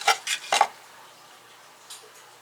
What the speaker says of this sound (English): I've got a small dish down here that I'm dumping soil into.